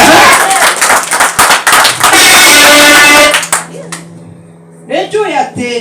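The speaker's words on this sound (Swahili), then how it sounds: "Pigia Yesu makofi mazuri" A church congregation claps for Jesus in dense, loud rapid applause for about three seconds, then the clapping fades and a voice speaks.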